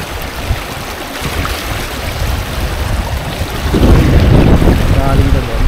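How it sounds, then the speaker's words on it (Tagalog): River water rushing and swirling in a constant turbulent roar at a riverside, growing louder toward the end, with wind buffeting the microphone and faint voices underneath. "Dito, umiikot yung tubig."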